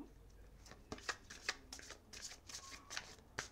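A deck of cards being shuffled close by, a series of quick riffling bursts with short pauses between them, soft and without talk.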